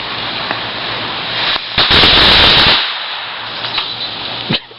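Daytime backyard fireworks go off in one loud crackling burst of rapid pops lasting about a second, followed by scattered fainter pops and a final sharp crack.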